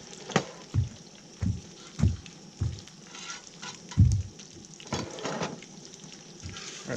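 Sausage frying on a Skottle griddle at a camp breakfast, a steady sizzle with repeated close scraping and stirring knocks at an uneven rhythm.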